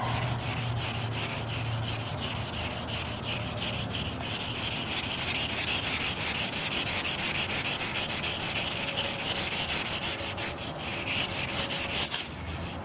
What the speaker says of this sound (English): This wet dry sandpaper is very old and probably will crinkle up and fall apart, but it will serve its purpose for right now.